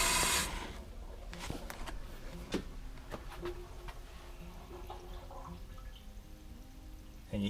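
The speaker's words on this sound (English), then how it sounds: "And you hear it draining out." Water draining out of a water heater during flushing, a quiet, continuous trickle with scattered drips and small knocks, steady and close throughout.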